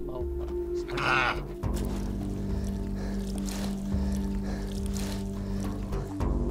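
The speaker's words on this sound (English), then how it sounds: "For their main source of food, the Berbers rely on goats, and this one is killed using a traditional method." A goat kept by Berbers bleats once, close and fairly loud, just before its slaughter. Steady low droning tones run underneath, and fainter sounds follow.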